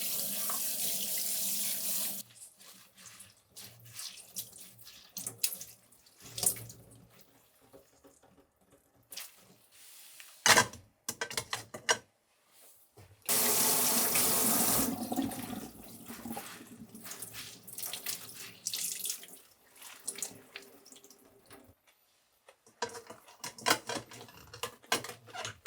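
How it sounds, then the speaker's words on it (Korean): Salted napa cabbage is rinsed under running tap water in a sink, with loud gushing bursts of the faucet broken by quieter stretches of splashing, handling and clatter. "충분히 절여진 배추를 흐르는 물에 가볍게 씻은 뒤 물기를 꼭 짜내어 채반에 받쳐둡니다."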